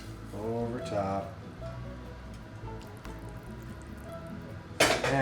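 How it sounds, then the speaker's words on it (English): Broth is ladled into bowls for faux pho, with soft pouring and dripping, light clinks of a ladle against dishes, and a sharper clatter at the end, mostly under talking. "Take our ladle, half of the liquid into each bowl, just right over top."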